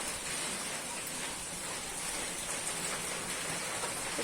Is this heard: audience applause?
no